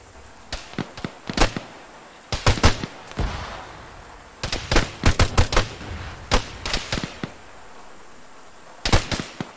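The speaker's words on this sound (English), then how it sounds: "I'm gonna throw a frag down there." A frag grenade is thrown and explodes in a squad-based military shooter, amid sharp bursts of nearby gunfire and blasts in irregular clusters, loud and close.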